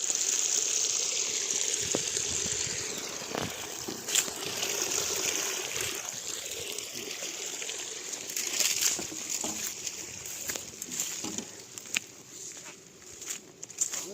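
Water pouring steadily from the outlet of a BLDC 2.5-inch pump, a continuous close rushing and trickling flow that goes on throughout with little change, with faint voices now and then in the background.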